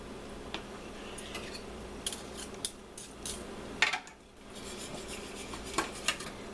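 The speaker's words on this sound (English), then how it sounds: "I'm even going to take my spoon, go around the edges." A metal spoon scraping around the edges of a pan of basic white flour gravy with tomatoes, a quiet run of close scratchy scrapes and light clinks at an irregular rhythm, no voices.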